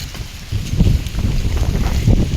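Wind gusts across an open farm field, buffeting the microphone with loud, rumbling, uneven bursts that swell and ease throughout, with no talking.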